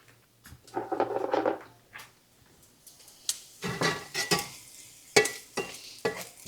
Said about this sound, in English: Our onions are just browning up there.